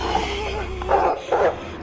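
Small dog barking, a few short yips and whimpery barks over a steady low background hum, fairly close.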